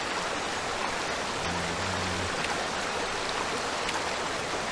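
River water flowing steadily in the forest game Among Trees, a continuous broadband rush with no pauses and no voices.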